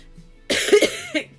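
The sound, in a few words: coughing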